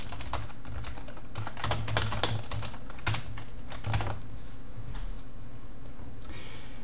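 Close, quick keystrokes on a computer keyboard as code is typed, a busy clatter of taps in clusters over a low steady background hum, with no talking.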